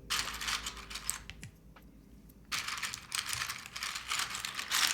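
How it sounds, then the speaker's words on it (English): Typing on a freshly assembled Thermal+ mechanical keyboard, a quick run of close, crisp keystrokes that stops for about a second and then starts again, loud and alone with no talking. "It's always nice hearing a keyboard finally come together."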